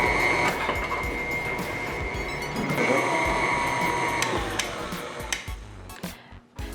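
An electric hand mixer runs at high speed through cookie batter in a bowl, a continuous close whine with rattling beaters that fades and stops near the end.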